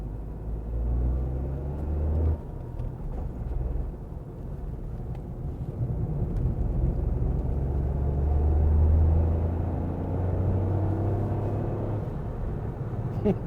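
A tuned rental car, a Toyota GR Yaris, drives along with a steady low engine rumble and road noise from inside the cabin, swelling slightly midway, with no talk over it.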